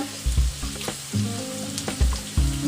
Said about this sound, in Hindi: अब मैं गैस को थोड़ा सा बढ़ा लूंगा और इसमें अब मैं हल्दी और नमक डालूंगा।